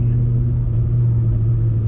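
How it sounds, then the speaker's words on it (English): Ford SVT Cobra with an axle-back Flowmaster exhaust idling or cruising in a steady, deep burble, a continuous low rumble close by and moderately loud. "Exhaust is very burbly."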